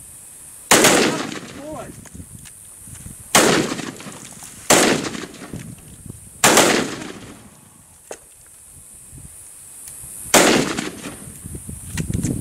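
Outdoor shooting with a .500 Magnum and a Ruger .454 revolver, five loud, heavy booming shots spaced a few seconds apart with a rumbling tail after each, and someone speaks briefly between them.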